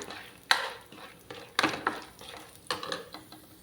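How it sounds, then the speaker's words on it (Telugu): Chana dal roasting in oil in a pan, with a spoon scraping and stirring in a few sharp, irregular strokes against a faint frying hiss. "శనగపప్పు వేయించేసుకోవాలి. బాగా దోరగా వేయాలండి, మంచి రంగు వచ్చి వరకొని."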